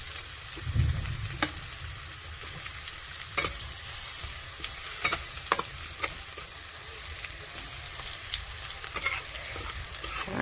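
Chopped garlic dropped into hot oil with fried onions, crackling and sizzling under repeated spatula scrapes and taps against the pan, close and steady with no talk.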